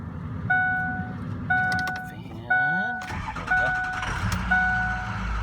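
A 2007 Ford truck engine with about 109,896 miles cranks and turns over, settling into a running idle, while repeated electronic warning chimes sound in a steady pattern.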